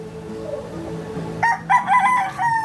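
A gamecock rooster, one of a set of fighting cocks being conditioned, lets out a single loud, close crow in the second half, after a quieter stretch of low clucking and background noise.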